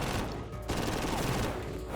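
Rapid machine gun fire, a dense continuous burst of shots with a brief gap near the middle, loud and close.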